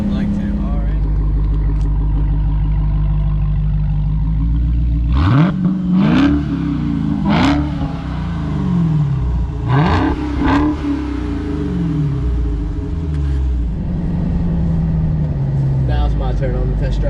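Dodge Charger Hellcat engine on a test drive, rumbling steadily and then revving hard in several sharp bursts from mid-clip, loud and close, with people talking over it.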